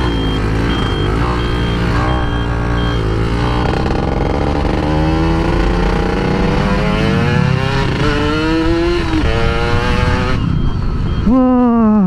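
A motorcycle fitted with American racing parts revs hard and keeps pulling as it accelerates through the gears, loud and close, with the engine pitch climbing repeatedly before a final sharp rev.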